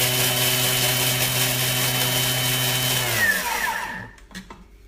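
A Thermomix blades rosemary, tarragon and garlic in a loud, steady high-speed whir that holds for about three seconds, then spins down quickly and stops, leaving a few faint knocks.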